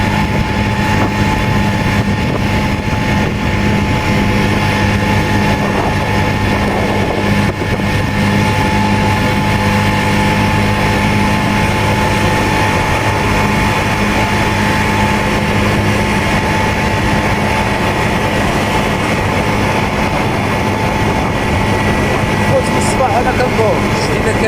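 A motor scooter engine drones continuously while riding, loud and steady throughout with heavy wind rush across the microphone, a voice talking over it.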